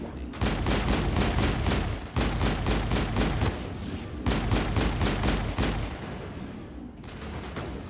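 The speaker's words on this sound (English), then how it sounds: "That turret can punch some nasty" Turret fire in the video game Mass Effect, with rapid, loud bursts of evenly spaced shots in several volleys separated by short pauses, then a quieter, rumbling stretch at the end.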